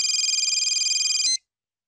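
Telephone ringing in a Hindi film scene, a steady electronic warble repeating for over a second before cutting off abruptly, loud and alone with no talk.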